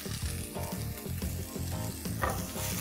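Garlic pods sizzle in hot oil in a pan while making okra fry, with a dense, loud, steady frying hiss and rhythmic clatter of stirring close by.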